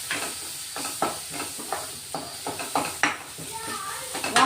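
Chili powder and turmeric being sautéed in a pan for a sprouted mung bean breakfast, with a soft sizzle beneath a string of sharp spoon scrapes and taps against the pan.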